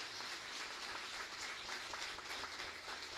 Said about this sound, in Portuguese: Vamos aplaudir ao Senhor, fiquei tão contente.